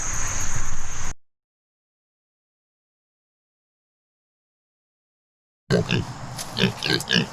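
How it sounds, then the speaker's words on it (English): Pigs grunt and oink up close in a garden plot of grass and corn stalks, a short burst of noisy rooting at the start, then silence, then more grunting as a voice talks. "We've had the pigs in here for several weeks."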